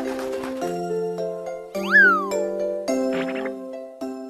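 A cartoon cat character lets out a rising and falling meow in the middle of bright, tinkling musical tones that carry on around it.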